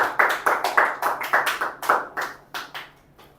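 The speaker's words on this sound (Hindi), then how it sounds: "एक बार बच्ची के लिए ताली बजा दो प्लीज" A classroom audience claps for a girl during a demo lecture, a brief round of about a dozen sharp, close hand claps in a quick uneven rhythm that thins out toward the end, with no talking over it.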